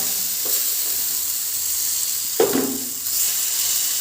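Puffed rice batter poured into hot white oil on a nonstick pan sizzles with a steady, loud hiss, broken by a brief sharper crackle and sputter partway through.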